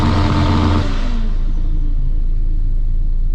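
A BMW M3 with quad exhaust at a drag race in Jelgava roars loudly up close, the engine revving hard before the note fades into a steady lower rumble.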